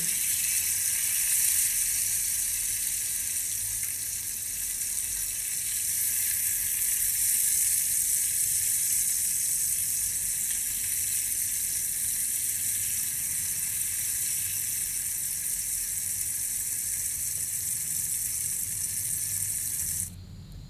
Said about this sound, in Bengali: মাছগুলো কিন্তু এক সাইড ভাজা হয়ে গেছে এখন আরেক দিকটা উল্টে দেবো